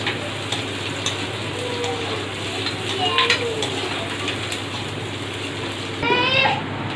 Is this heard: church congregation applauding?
no